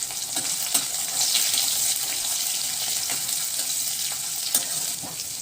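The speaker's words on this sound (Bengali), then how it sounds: "এখন আমি তেলের মধ্যে দিয়ে দিলাম অল্প একটু লবণ থেতো করা আদা তিন চারটা চেরা কাঁচা লঙ্কা আর অল্প একটু কালো জিরা দিয়ে দিলাম" Crushed ginger, slit green chillies and nigella seeds with a little salt fry in hot oil for a gourd-peel paste, giving a steady, close hissing sizzle with faint crackles throughout and no talk.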